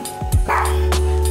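A dog barks a couple of times up close at a loud volume, with a whimpering yip mixed in, followed by a steady low hum of background noise.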